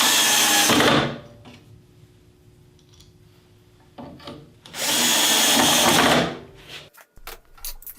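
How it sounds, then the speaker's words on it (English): Power drill boring holes in L brackets, two loud high-pitched whirring bursts of about a second each, with a quiet gap between them filled by faint handling sounds, then some clicks afterward. "I drill holes in the 2 remaining L brackets"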